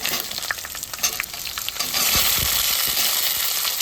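Curry leaves, onion and tomato fry in an oil-filled pan for a South Indian sambar: a steady, close sizzle that swells louder partway through as more goes in, with scattered crackles and pops and no talking.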